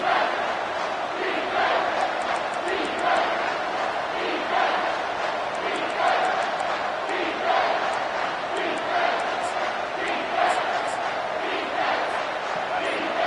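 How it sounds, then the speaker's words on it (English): Stadium crowd at a college football game roars loudly on third down, a sustained wall of cheering and yelling with sharp whistles and shouts cutting through, steady and enveloping throughout. "Decibels rising as the crowd gets behind this defense on 3rd down"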